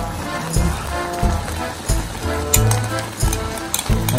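Flour cooking in a pan for tomato and zucchini pickles, a soft sizzle under repeated scraping strokes of a stirring spoon, close and uneven in loudness, with no clear speech.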